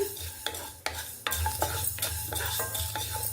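A spoon scrapes and stirs fenugreek seeds dry-roasting in a pan for pickle, rhythmic close scraping strokes about twice a second over a faint steady sizzle.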